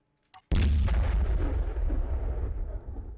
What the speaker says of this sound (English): We'll fire her one more time for great effect